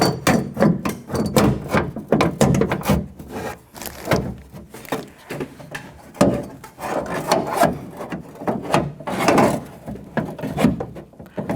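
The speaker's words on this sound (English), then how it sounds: "I'm just going to turn the regulator until that bolt lines up." A window regulator is turned into place inside the door of a 2006-12 Toyota RAV4. The clip is full of continuous, busy mechanical clatter, scraping and knocking of metal and plastic parts, close and fairly loud, with no speech.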